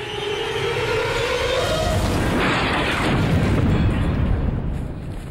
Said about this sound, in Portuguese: De repente, ouço uma explosão em cima do bunker